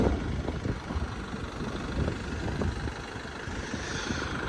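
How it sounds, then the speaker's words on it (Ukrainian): A 2012 Chevrolet Captiva engine idles steadily with an even, continuous low rumble, close and moderately loud, with no talking over it. "Двигун працює рівно, чітко, сухенький."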